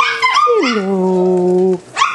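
A puppy gives a single drawn-out whimpering yelp that slides down in pitch and holds, then a short second yip follows, close and fairly loud.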